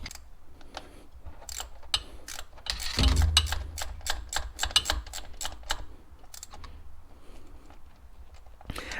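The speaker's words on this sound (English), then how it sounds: "I tighten them back and forth until snug, just to kind of let the gasket sit." Bolts on a Honda 3.5 engine thermostat housing being tightened by hand, giving rapid ratcheting clicks in irregular bursts, close and fairly quiet, with a short louder mechanical clatter partway through.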